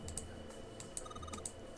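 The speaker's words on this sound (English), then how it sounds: "But you type something on the keyboard." Keys tapped on a keyboard during a video game puzzle, a quiet run of irregular clicks with a few sharper keystrokes standing out, heard alone without talk.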